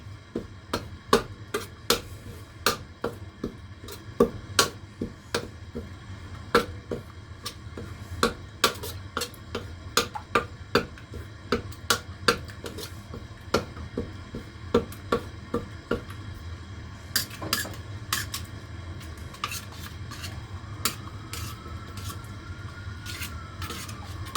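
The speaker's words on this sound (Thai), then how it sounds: "ใส่พริกแกงลงไปเลยพริกแกงเผ็ดนะคะอันนี้นะคะ ผัดพริกแกงก่อน" A utensil stirs red curry paste frying in a pan, making repeated sharp scrapes and taps at an irregular, steady pace over a low background hiss.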